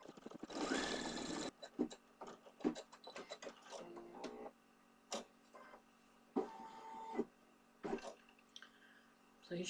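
An embroidery machine stitches a zigzag around a hoop, giving quiet, irregular bursts of mechanical clicking and whirring with short pauses, after a brief louder rustle at the start.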